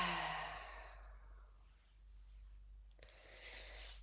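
A slow exhale through the mouth during a breathing practice, a soft airy breath fading out over the first second or so, followed by near silence and then a faint rustle.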